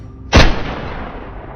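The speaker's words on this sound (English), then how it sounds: "The shot echoed through the forest." A single loud gunshot from a wild boar hunt in a forest, a sharp blast followed by a long rolling echo that slowly fades.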